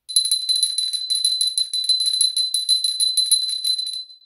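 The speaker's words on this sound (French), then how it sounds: "Attention, je sonne la cloche." A small bell rung rapidly and continuously for about four seconds, a bright, steady high-pitched jingling with no voices.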